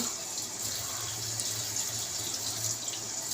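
Water pours steadily in a close hiss and trickle as it is added to Kashmiri red chilli powder in a home kitchen, with no talking.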